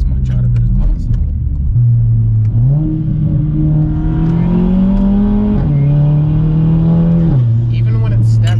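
A Stage 3 tuned MK7 Volkswagen Golf with its muffler and mid-pipe replaced by a performance muffler, engine droning and revving up and down through gear changes, loud and close, continuous throughout.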